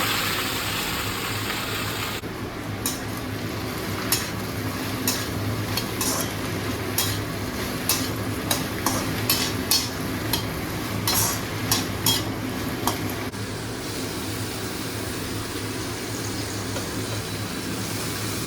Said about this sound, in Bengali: তো এই যে এখানে ভেন্ডি ভাজাটা বসিয়ে দিচ্ছি।